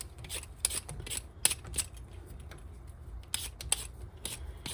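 Potatoes being peeled by hand for homemade fries, giving a run of short, light scraping strokes at an uneven rhythm, close and fairly quiet with no talk.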